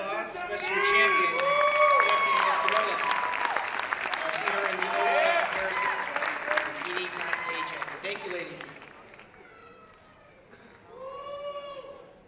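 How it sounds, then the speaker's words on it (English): An audience at an NPC Las Vegas Classic bikini contest claps and cheers loudly for the competitors, a dense burst of applause that fades near the end, with voices calling out over it. "Give them all a big round of applause"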